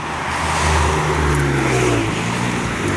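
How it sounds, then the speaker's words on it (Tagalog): A loud racing car engine revs nearby on a UK street with a rising and falling tone, like a performance car accelerating past on a road. "Pangkarerang kotse."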